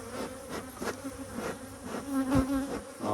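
Honey bees swarm around a hive during box changes and feeding, a steady dense buzz with several nearby bees droning past and swelling louder, no voices over it.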